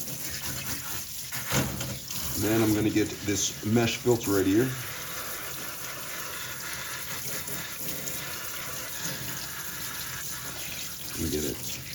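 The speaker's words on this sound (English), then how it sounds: "A little bit of warm hot water action going on." Warm tap water runs over a dishwasher mesh filter being rinsed at a sink, a steady broadband wash with a louder splashy stretch early on, while someone talks over it.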